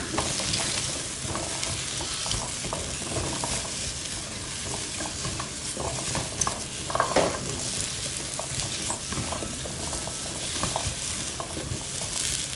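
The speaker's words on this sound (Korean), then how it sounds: "자, 감자 넣고 볶으시다가 양송이 넣고 볶습니다." Diced potatoes and button mushrooms stir-fry over high heat in a pan, a constant loud sizzle with scraping and occasional clinks of a utensil against the pan, close up and with no talking.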